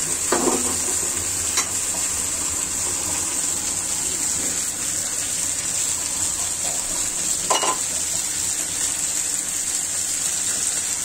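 Raw jackfruit and cumin frying in a pan, a steady sizzling hiss with a couple of brief scraping stirs, close and moderately loud, with no talk.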